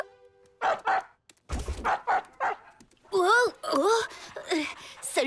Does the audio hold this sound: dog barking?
yes